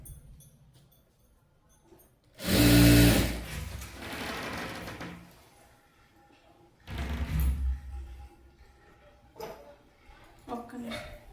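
A sewing machine stitches the lining of a saree in a couple of loud bursts separated by quieter gaps, with someone talking over parts of it.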